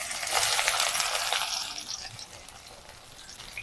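Chopped onion goes into hot mustard oil in a wok, giving a bright, hissing sizzle that starts strong and slowly softens, with no talking over it.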